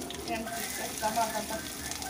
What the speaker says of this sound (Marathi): आता मी एक कढई ठेवलेली आहे गॅसवरती आणि त्यामध्ये दोन चमचे तेल घातलेलं आहे तेल घातल्यानंतर आपल्याला कांदा घालून घ्यायचा आहे आणि हिरवी मिरची